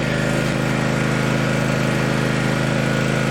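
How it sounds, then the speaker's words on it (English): A traditional gas-powered lawn mower runs in an apiary, a loud, steady engine drone held close and unbroken throughout. "you got the traditional sound of a lawn mower you could use in your apiary"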